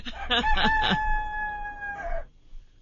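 A rooster crow sound effect: a single loud, drawn-out cock-a-doodle-doo with a stuttering start and a long sustained note that falls away at the end, heard alone and up close.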